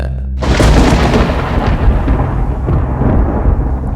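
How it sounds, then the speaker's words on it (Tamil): A loud thunderstorm rumbles continuously after a sudden onset, with heavy, dense crackling thunder filling the scene as a sound effect in a narrated story about a ship meeting a storm at sea. "அப்போ தான் அந்த கப்பலில் இருந்து எல்லாரும் உணர்றாங்க அவங்க ஒரு புயலை சந்திக்க போகிறத"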